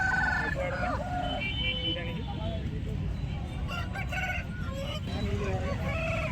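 Roosters crow repeatedly at a busy country chicken market in Guntur, with loud, drawn-out calls over a constant murmur of people and market noise, and voices talking throughout.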